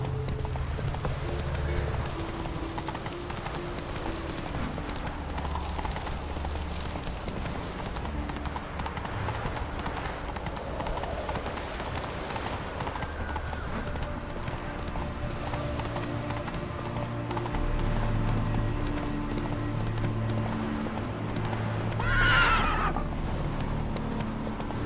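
Roach, the horse in The Witcher 3: Wild Hunt on PS4, gallops with steady rhythmic hoofbeats over game music, with a brief whinny near the end.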